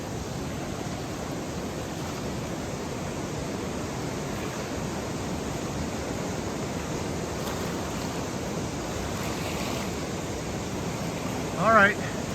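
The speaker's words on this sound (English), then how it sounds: "Just highlighting the flooding on the Haw River." The flooded Haw River rushes beside a forest trail with a continuous, even roar of water that stays loud and unbroken throughout, and a brief sharper sound near the end.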